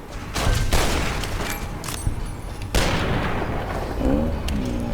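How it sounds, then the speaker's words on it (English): Rapid gunfire from a machine gun in the video game Fallout: New Vegas, loud bursts of fire over a dense rumbling game soundscape, with someone talking briefly. "Oh, he's got a fucking machine gun."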